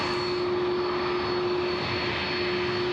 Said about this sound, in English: Just in time for our A330 to come here in front of us